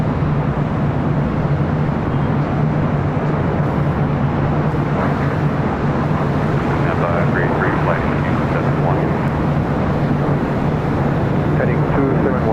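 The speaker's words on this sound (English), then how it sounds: "It's a 777 freighter. Flying directly over us here." A Boeing 777 freighter from Taipei passes overhead at LAX as a loud, continuous low engine roar, with a voice talking over it throughout.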